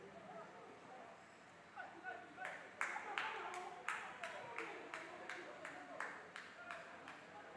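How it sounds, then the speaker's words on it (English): Spectators at a football match clap in a short run of distinct, fairly rhythmic claps that start after a couple of seconds. The clapping is moderately near, with quiet background noise before it. "you can see people clapping for them"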